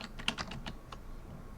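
Fast burst of computer keyboard typing, about six quick clicks in under a second, fairly faint and close, then quiet room tone.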